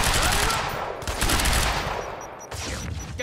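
Heavy, sustained automatic gunfire in the video game Quantum Break during a firefight, with dense loud bursts from start to finish and brief shouted voices.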